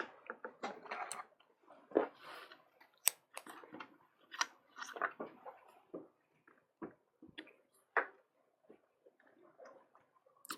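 Carving tools cut registration marks into a Japanese printmaking woodblock, producing a scattered series of quiet, close scraping clicks and taps in an otherwise silent room.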